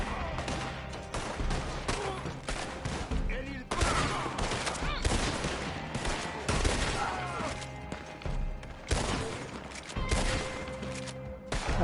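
Gunshots in Red Dead Online crack repeatedly in dense, irregular bursts and sustained volleys, loud and close throughout, mixed with clattering game effects and some talk.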